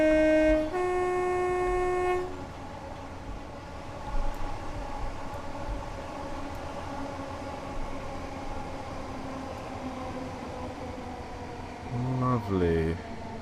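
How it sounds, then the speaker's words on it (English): Class 455 train horn from the Armstrong Powerhouse sound pack in Train Simulator, a loud two-tone blast lasting about two seconds, followed by steady train running noise and a brief second toot near the end. "Well, it's the Armstrong Powerhouse horn"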